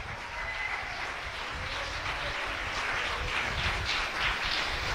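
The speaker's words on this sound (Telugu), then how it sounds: "ఒకసారి అందరం గట్టిగా చప్పట్లు కొడదాం" Sustained audience applause fills a hall after a church singing competition, steady and dense clapping from a large crowd at moderate distance, continuing evenly without pause.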